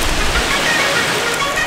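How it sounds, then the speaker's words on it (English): Light rain beginning to fall outdoors at a skate spot, a steady soft hiss of drops spread evenly throughout, with no talking. "it's starting to rain"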